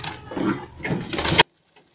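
A sewing machine stitches buckram for a cotton kurti, running in one continuous burst of about a second and a half before stopping abruptly, followed by a faint click.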